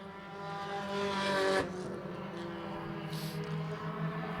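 Thunder 4 mini race cars run bonus laps on an oval track, engines droning at a moderate distance with one car swelling louder and fading, then the pack continuing more faintly.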